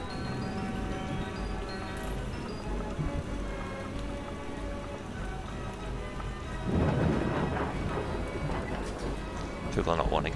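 Steady rain and rolling thunder in the theme-park building game Parkitect, a constant wash of rainfall with a louder rumble of thunder swelling toward the end.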